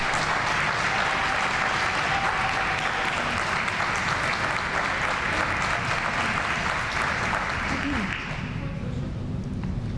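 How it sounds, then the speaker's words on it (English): A large crowd at a Chicago vaccine campaign event applauds Mayor Lori Lightfoot, loud sustained clapping and cheering that stays steady for the whole stretch and eases slightly near the end, with voices mixed into the noise. "Clap your hands for our visionary leader,"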